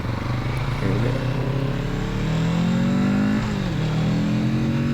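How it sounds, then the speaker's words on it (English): A 2024 Kawasaki Z650RS motorcycle accelerating on a ride around downtown Reno, its loud intake and engine note climbing steadily through the revs, dipping briefly for a gear change and rising again, heard continuously up close. "I love the induction sound of this bike."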